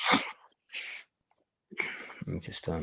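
A single sharp sneeze bursts out close at the start, then a short pause and a person talking.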